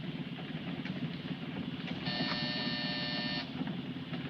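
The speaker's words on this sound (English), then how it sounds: "Hit that buzzer." A steady electric buzz sounds for about a second and a half over a constant low rumble of a moving train or vehicle interior, from a 1952 film.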